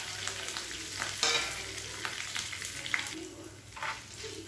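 Cashews with black pepper and cumin are stirred in hot ghee over a low flame, a steady quiet sizzle carrying repeated scraping strokes of a spoon across the pan, close by with no voices.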